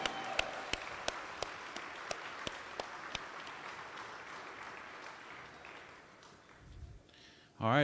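An audience applauds a mariachi band after the national anthem at an apprenticeship graduation ceremony. A regular rhythmic clapping fades into a soft crowd wash, and an amplified voice comes in at the end.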